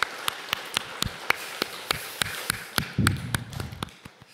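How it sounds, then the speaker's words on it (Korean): Church congregation clapping in a Korean Sunday worship service, sharp regular claps at a steady rhythm, fairly close and clear, with a low murmur of voices swelling briefly near the end. "우리 하나님께 박수로 감사 올려드리겠습니다"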